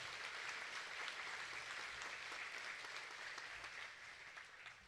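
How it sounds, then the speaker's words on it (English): At a rodeo cowboy hall of fame ceremony, the crowd gives scholarship winners a round of applause, soft and distant, a steady wash of many hands that fades slightly toward the end. "Let's give all of this year's scholarship winners a round of applause."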